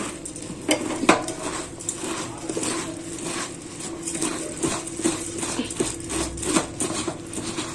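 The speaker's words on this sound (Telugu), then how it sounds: "తర్వాత వీటన్నింటిని చేతులు కలిపేసుకుందాం ఈజీగా కలిసిపోతుంది" Bhel puri ingredients tossed together by hand in a tall container make soft rustling and scraping, with scattered clinks and taps in an uneven rhythm, close by and without talk.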